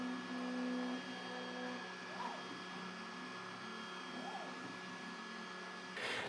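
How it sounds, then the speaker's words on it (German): Steady mechanical whirring with faint tonal hums and occasional rising motor whines from an enclosed Flashforge Adventurer 5M Pro 3D printer printing, stepper motors running continuously at moderate volume. "der Drucker druckt."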